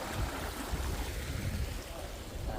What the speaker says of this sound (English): look how the river is flowing here.